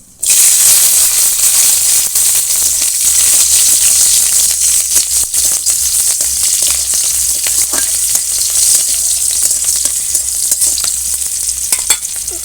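Slit green chillies hit hot oil already holding fried nigella seeds, a loud, steady sizzle with scattered crackles and pops that continues unbroken through the whole stretch.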